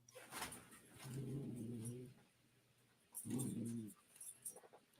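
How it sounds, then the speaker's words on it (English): A dog in the background of a room whines and yips in two bursts during playful zoomies, faint and a little distant, with small knocks and scuffles between the bursts. "Sorry if you hear my dog and her zoomies in the background."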